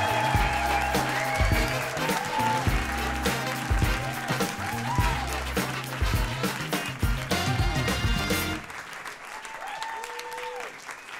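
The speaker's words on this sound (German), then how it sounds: "aber jetzt brauchen wir einen riesen Lärm, riesen Applaus für die großartige Sandra" Comedy studio audience in Berlin applauding the comedian Sandra Schmidt, with loud sustained clapping mixed with heavy music thumps, then easing to a thinner patter toward the end.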